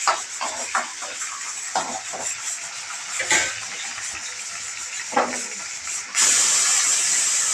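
Onions and curry leaves sizzle and hiss steadily in hot oil in a pan while aloo curry is cooked at home, with a louder burst of spitting near the end.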